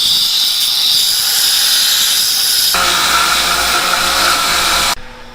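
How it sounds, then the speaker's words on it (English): A power grinder cuts the threads off a metal fitting during a Toyota FJ45 rock crawler build. It gives a loud, sustained high-pitched whine that drops in pitch midway as it bites into the metal, then cuts off abruptly near the end. "we'll just grind the threads off of it and away we go"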